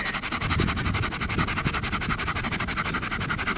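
Sandpaper rubbed over brain-tanned buckskin gives a close, steady scratchy rasp in quick repeated strokes, with no voices over it.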